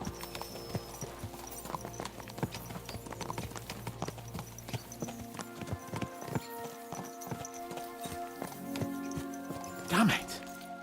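Horses gallop in the medieval video game Kingdom Come Deliverance II, a steady run of hoof clip-clops under a musical score, with a horse's snort or whinny near the end.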